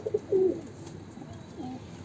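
A few soft pigeon coos, short low notes followed by a longer drawn-out one, close by against a quiet background hiss.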